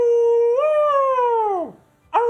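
A dog howls close by in one long sustained wail that rises, holds, then slides downward and fades, followed after a short pause by the start of another brief whine; no talking.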